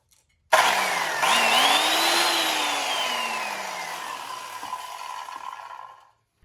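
An old corded Black & Decker saw, just fitted with a new plug, whirs up to a high pitch after switch-on, holds a steady motor whine, then winds down in pitch before cutting off.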